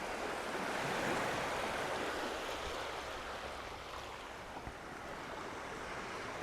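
Surf washes steadily onto the sandy beach at Megali Ammos on Skiathos, a broad continuous roar of breaking waves with some wind rumble and no voices.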